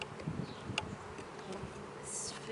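Honeybees buzzing around an opened, overwintered hive during a full spring inspection: a faint, steady, close-by hum of many insects with a few brief louder passes.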